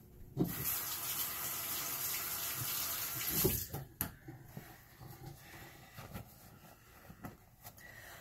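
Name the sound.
washing hands under a running tap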